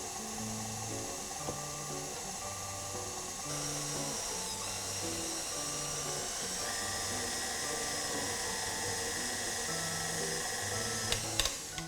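Electric mixer beating no-bake cookie dough in a bowl, a steady, moderately loud whirring motor drone that continues without pause, with no talking over it.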